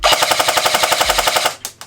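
An A&K PK airsoft machine gun, downgraded from about 400 FPS, fires a fast, steady automatic burst through a chronograph, loud and close, ending with a couple of separate clacks.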